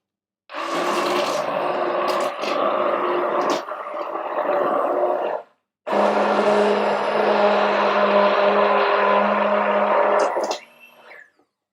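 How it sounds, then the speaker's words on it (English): A kitchen blender churns thick squash soup in two long, loud whirring runs, the motor straining with a steady droning hum and a short pause between bursts, ending with a brief wind-down. "now I can put the blender on again"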